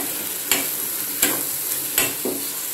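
Stuffed capsicum masala is stirred in a pan, with four distinct scraping strokes at roughly even intervals over a steady low sizzle, close and clear, no voices.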